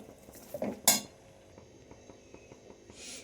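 A spoon scrapes and clinks against a pan holding food with salt, turmeric and slit green chillies, with a sharp metallic knock near the start, a quieter scrape at the end and a faint hum in between.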